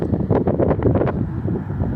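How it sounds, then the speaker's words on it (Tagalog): Strong wind buffets the microphone outdoors, a loud continuous rumbling roar with gusty surges and no voices. "napakalakas yung hangin guys"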